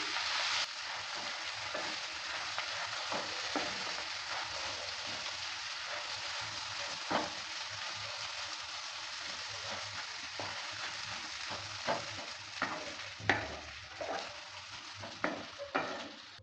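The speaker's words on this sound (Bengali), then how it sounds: "পেস্টটা দেওয়ার পর ভালো করে আবারও নেড়ে চেড়ে নিচ্ছি।" Hill bean seed paste fries in a pan with a steady dense sizzle, while a spoon stirs it and scrapes the pan in irregular close clicks that grow sharper toward the end; no one speaks.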